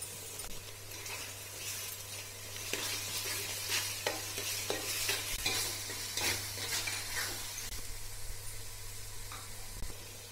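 Ginger garlic paste fries in a pot for chicken biryani, a close, steady sizzle mixed with repeated scraping stir strokes against the metal, over a low steady hum.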